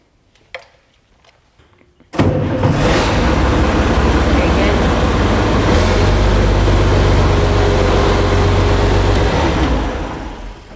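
An International Harvester tractor engine, fresh from an injector replacement, cranks and catches after a couple of quiet seconds, then runs loud and close with a steady rumble that eases slightly near the end.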